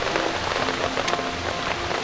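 Heavy rain at a forest campsite pours steadily onto tent and tarp surfaces, a dense continuous patter that stays loud and even throughout with no voices.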